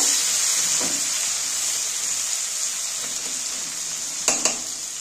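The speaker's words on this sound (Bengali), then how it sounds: "এরপরে দেবো পেঁয়াজ। এটা একটু লাল লাল করে ভেজে নেব।" Onion frying in hot oil with cumin and bay leaves in a pan, a loud, continuous sizzle held close throughout, broken near the end by two sharp clinks of a utensil.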